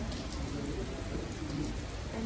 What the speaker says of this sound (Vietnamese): cả nhà thấy trời gầm không, lớn chưa nè.